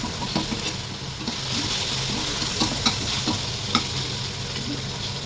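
Potatoes, peas and mushrooms stir-fry in a pan with a constant sizzle, broken by sharp scrapes and clicks of a spoon stirring against the metal.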